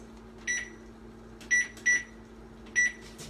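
A microwave oven starts at full power with four short electronic beeps over a steady low hum, close and clear with no talk.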